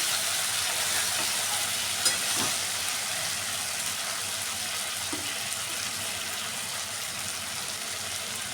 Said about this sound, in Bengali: মশলা থেকে তেল ছাড়তে শুরু করেছে।